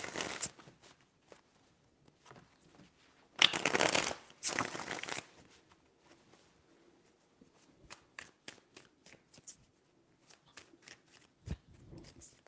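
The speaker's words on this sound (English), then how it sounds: "Four shuffles." Playing cards being shuffled, with two loud riffling bursts in the middle and scattered soft card taps and handling clicks around them, close up.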